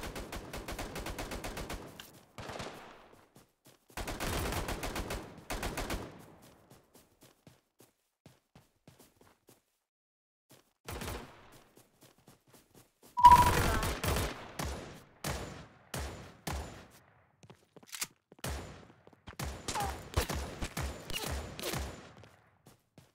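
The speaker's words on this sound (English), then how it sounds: "Warning, incoming bombardment." Bombardment strikes land in the Omega Legends game as intermittent bursts of booming blasts and rapid gunfire-like cracks. One loud impact cluster stands out midway, with quieter gaps between the volleys.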